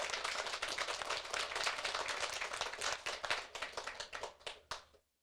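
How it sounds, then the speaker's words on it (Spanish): A church congregation claps enthusiastically during a Catholic sermon, dense hand claps that thin into fewer, distinct claps before stopping abruptly near the end. "Fuertes aplausos al Rey de Reyes y al Señor de Señores"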